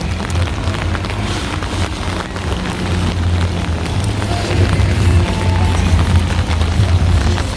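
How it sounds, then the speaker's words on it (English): Heavy rain pounds steadily on a surface, loud and close, with gusts of wind buffeting the microphone and a low rumble underneath. "Dark and pure rain."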